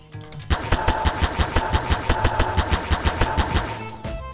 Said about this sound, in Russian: это просто красивые взрывы.